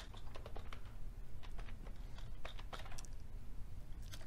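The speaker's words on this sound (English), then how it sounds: "I'll type in maintenance" Computer keyboard being typed on, a quick run of soft, close key clicks at an uneven rhythm over low background hum, faint overall and without speech.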